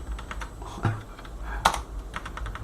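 Close-up key presses on a sensitive computer keyboard during a Linux installation, a few soft taps with one sharper click standing out, quiet and sparse.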